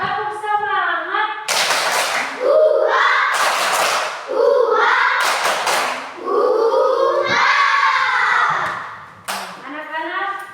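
A class of fifth graders performs a 'tepuk semangat' routine, their voices chanting in unison and punctuated by several loud, sharp bursts of group hand clapping in a steady rhythm.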